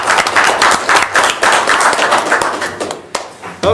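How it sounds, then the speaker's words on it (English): A small group at a city council meeting claps for a few seconds, a dense patter of hand claps that thins out toward the end, close and fairly loud. "I thought we would just maybe clap."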